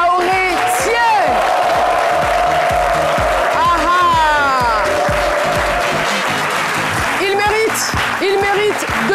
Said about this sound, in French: On va l'applaudir plus fort